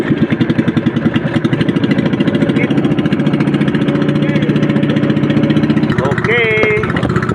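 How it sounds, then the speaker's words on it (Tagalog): A small fishing boat's engine starts and runs on a fishcorral outing, a loud, steady rapid chugging close by, with a voice calling out over it near the end. "papaandarin ko na itong makina"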